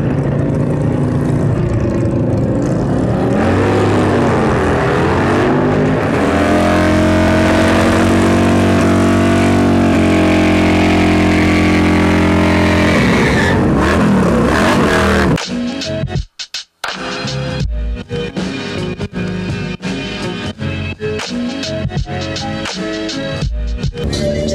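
Motorcycle engines at a 2020 bike fest at a motorsports park: a loud, sustained engine drone with rising and falling revs, then a brief cutout and a busier stretch of rough, fluttering exhaust noise from several bikes.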